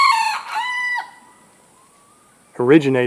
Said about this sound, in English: These are jungle fowl